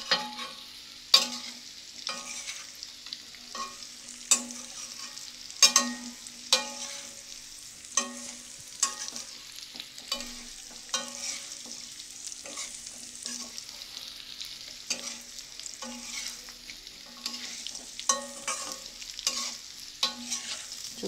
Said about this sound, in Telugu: ఈ చికెన్ కూడా వేగితే టేస్ట్ బాగుంటుంది